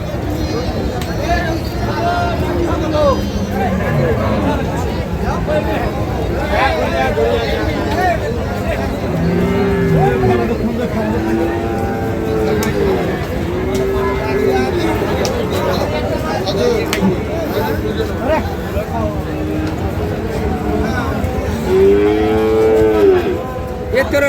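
Cattle, bulls and cows, moo repeatedly in drawn-out calls at a livestock market amid a busy crowd with constant chatter and background noise.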